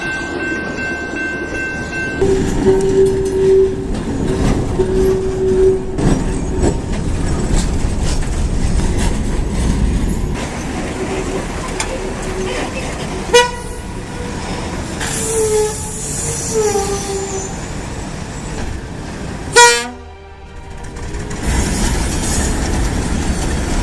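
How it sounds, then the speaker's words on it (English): A train approaches and passes a railroad crossing with a loud rumble and clattering wheels, plus squealing of wheels on the rails, a few sharp bangs and a brief horn or bell tone near the start. "you should never cross a railroad when the bells are ringing and a train is coming"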